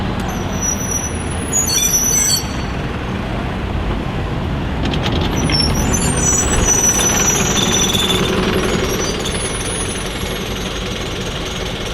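Buses at the new Crewe bus station, a continuous loud rumble of diesel engines idling and moving, with squealing brakes and hissing air releases rising above the din.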